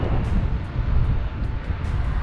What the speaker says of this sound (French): énormément de vent.